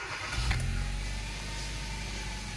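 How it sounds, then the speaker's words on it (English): A car engine idles steadily after a fresh oil change, a low continuous rumble holding even throughout, with a brief louder bump near the start and no talk. "is to just start the car up for like 30 seconds or a couple minutes after, just to let the new oil cycle"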